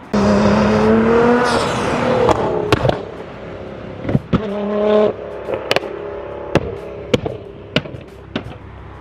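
A loud modified Nissan 370Z engine revs hard with harmonic drone, then a series of sharp popping backfire bangs crackle irregularly as the revving drops off.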